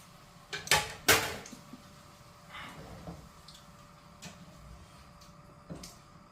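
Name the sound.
stirring chicken adobo in a pot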